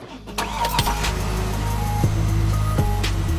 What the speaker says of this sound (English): This is a Lamborghini Aventador